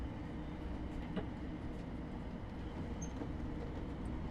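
Thameslink Class 700 electric train running in a Train Sim game on the Southeastern Highspeed line, a steady low rumble with faint rail clatter, continuous and even, no voices.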